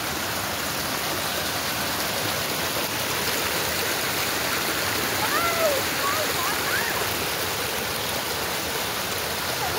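A dense, constant roar of heavy monsoon rain and rushing floodwater amid floods and landslides in Nepal, loud and unbroken from start to finish.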